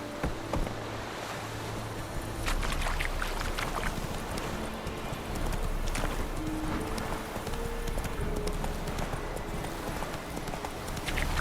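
Roach, a horse in the fantasy game The Witcher 3: Wild Hunt, galloping with steady, rapid hoofbeats that run throughout at close range over a bed of wind and ambient noise.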